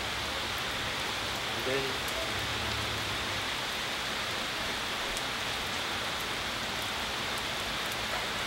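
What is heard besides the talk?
rain falling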